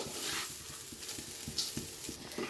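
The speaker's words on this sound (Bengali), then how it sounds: "দেখতে হবে যে চালটা যে একটা নাড়তে নাড়তে চড়বড় চড়বড় করে আওয়াজ হচ্ছে" Rice being stirred and fried in a pan for plain pulao crackles and sizzles steadily, with repeated scraping strokes of the stirring spoon close by and no voices.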